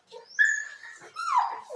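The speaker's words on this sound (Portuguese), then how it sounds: "Cachorro perturbando aqui, ó, brincando e atrapalhando aqui." A dog at play nearby gives a couple of short high whines and yelps, close and fairly loud, with no talk over them.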